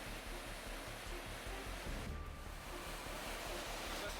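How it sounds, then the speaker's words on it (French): A powerful mountain torrent rushes in a steady, loud roar of broadband water noise, continuous and close, with no voices. "Ce torrent est très puissant."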